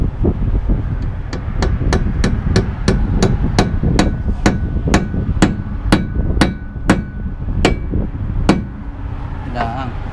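A hammer drives a nail into hard wood to secure a loose piece about to fall, with about fifteen sharp, evenly paced strikes ringing out close and loud over a steady background.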